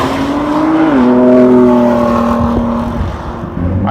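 A 2017 Ford GT's engine while driving, a loud close drone that rises steadily, then drops in pitch at a gear change and settles into a steady growl.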